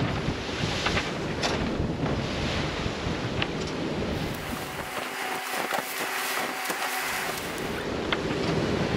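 A sailboat motors under engine in wind and rough water off Antigua, with constant wind buffeting and sloshing waves and a faint low engine hum showing through midway.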